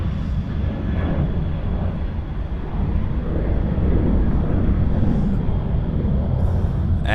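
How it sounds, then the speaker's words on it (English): A Virgin Boeing 737 takes off at Sydney Airport, its engines producing a continuous, loud, broad jet roar that stays steady for several seconds with some wind buffeting. "here's that Virgin 737 taking off to the Gold Coast"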